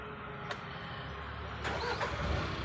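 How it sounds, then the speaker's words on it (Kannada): A car engine cranks and catches, the starter whirring briefly before the motor settles into a low, steady idle close by, with a faint click heard beforehand. "ವೆಹಿಕಲ್ನ ಸ್ಟಾರ್ಟ್ ಮಾಡಿ ಹೇಳ್ತೀನಿ."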